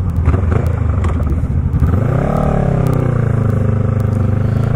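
A Honda Rebel 500 motorcycle with an aftermarket mid exhaust runs loudly up close, its engine rumbling at idle before revving up into a rising, throaty drone.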